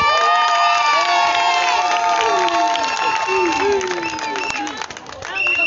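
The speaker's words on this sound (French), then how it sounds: "je souhaite qu'on applaudisse très fort pour Monsieur Abbé Solo Mensmen." A wedding crowd cheers and shouts loudly and continuously, with clapping mixed in and high voices rising above the roar before it briefly dips.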